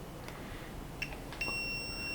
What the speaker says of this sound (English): it beeps when we have continuity